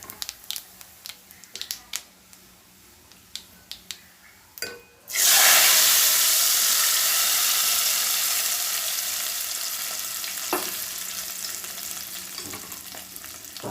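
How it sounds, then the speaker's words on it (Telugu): Mustard seeds, cumin and dried red chillies tempering in hot oil: light clinks and taps at first, then a sudden loud sizzle that slowly fades while crackles pop through it. "ఆవాలు అయితే చిట్టపట్టమంటున్నాయి కదా, ఇదిగోండి జీలకర్ర, ఎండుమిరపకాయ అది వేగిపోయింది అనమాట."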